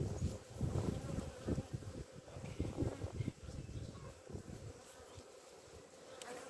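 A dense swarm of honeybees drones steadily around an opened hive box, the hum rising and falling close by with soft rustles of frames being moved.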